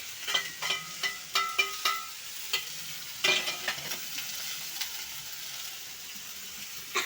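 Whole tomatoes fry in a pan for tomato curry, their close sizzle broken by sharp clattering stirs and scrapes in the first few seconds before settling into a quieter, steady sizzle.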